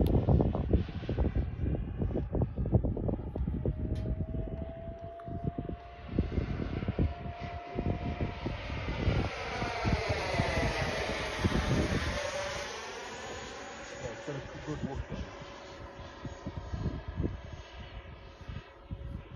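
A CMFC XFLY Alpha Jet 80mm model jet flies past outdoors, its ducted-fan whine rising and sweeping in pitch as it approaches and recedes, with wind buffeting the microphone and brief talk nearby.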